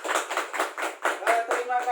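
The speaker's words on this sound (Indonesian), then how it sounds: "Kita tepuk tangan dulu untuk kita semua." A group at a training session claps in a quick, even rhythm of distinct, close hand strikes, about eight to ten claps in two seconds, with voices mixed in.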